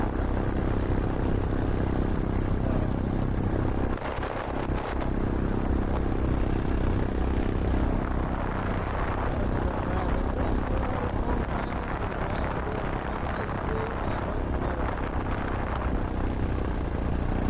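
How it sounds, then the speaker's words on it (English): A light aircraft's engine hums steadily through a landing approach about 50 feet above the ground, with the throttle being blipped gently, giving a continuous loud drone mixed with wind rush and a brief dip in level. "So I'm keeping my engine on,"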